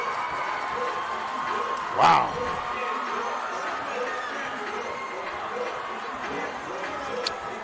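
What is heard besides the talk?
North High basketball crowd cheering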